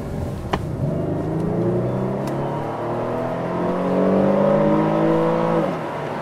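A 2015 Nissan Fuga Hybrid running with its engine started: a steady, close motor hum with layered tonal whines that slowly rise and swell near the end, with no talking.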